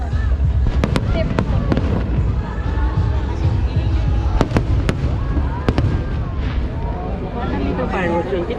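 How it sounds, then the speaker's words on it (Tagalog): Big fireworks burst in the Philippines with sharp, loud booms at irregular intervals over a rumbling crowd, while people talk nearby. "big fireworks."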